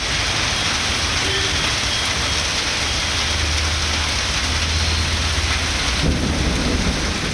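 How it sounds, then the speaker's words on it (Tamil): Heavy rain pouring down during a thunderstorm with lightning, a dense continuous roar of rainfall with low rumbling thunder underneath, steady and loud throughout. "1 மணி நேரத்திற்கு மேலாக இடி மின்னலுடன் மழை கொட்டித் தீர்த்தது"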